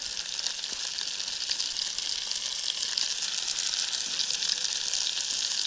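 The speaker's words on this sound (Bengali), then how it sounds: "এবারে মশলাটা একটু ভাজবো" Onions with Maggi masala frying in a pan outdoors in a field, giving a constant, close, bright sizzle that holds evenly throughout with no talking.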